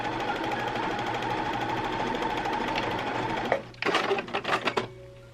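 A sewing machine stitches a folded satin fabric strip for a bridesmaid dress, running in a steady continuous whir, then breaking into a few short bursts near the end.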